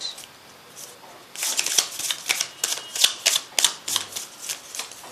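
Tarot cards are shuffled close up, a rapid series of crisp riffling snaps and flicks that begins after a quiet moment and keeps going in quick bursts.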